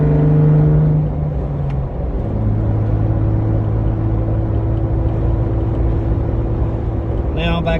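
Jeep Wrangler JK with no muffler driving, its engine a loud steady droning rumble that drops in pitch after a shift and then holds even, with a voice speaking over it.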